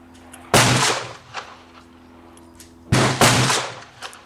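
Two loud, sharp revolver shots about two and a half seconds apart from a .38 Colt New Police firing 213-grain bullets over a Power Pistol powder load, each crack followed by a brief ringing decay outdoors.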